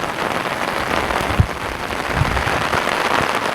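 Heavy rain pours down in a dense, steady wash of noise, close and constant, with a couple of brief low thumps partway through and no voices.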